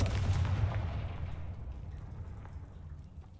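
A Confringo fire spell bursts in Hogwarts Legacy as a loud blast right at the start, trailing off into a long rumbling, crackling decay with no one speaking.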